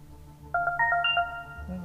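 A phone ringtone from the mobile video game Hijacker Jack plays a short, bright, electronic melody of about eight quick beeping notes, clear and close, ending in a low hum.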